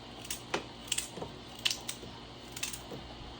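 Seim beans for a Guyanese curry being cut into small pieces, a string of quiet crisp snips and clicks close by, irregular and a few per second, with no talk.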